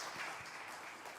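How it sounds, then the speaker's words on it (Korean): A church congregation gives brief applause, heard as a faint, distant patter of clapping throughout. "서로 위해서 다시 한번 격려의 박수를 우리가 하고 싶습니다"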